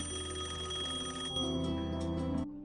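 A telephone rings in a scene from the 2002 film Secretary, a repeated bell-like trill heard clearly and alone before cutting off abruptly near the end.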